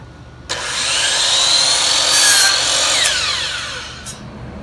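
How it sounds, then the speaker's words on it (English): A miter saw cuts through a piece of wood at a 40-degree setting: a sharp motor whine spins up, holds loud and steady through the cut, then winds down alone. "So I'm going to cut this piece of wood"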